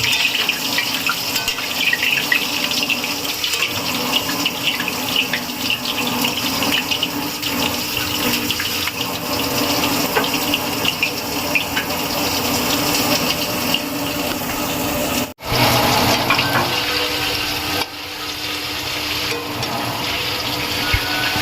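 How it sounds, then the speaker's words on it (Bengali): Potatoes frying in hot oil for dhaba style chicken, a steady dense sizzle that runs unbroken and close, with one brief drop in the middle before the crackle resumes. "আলুটা ভেজে নেওয়া হচ্ছে লাল করে"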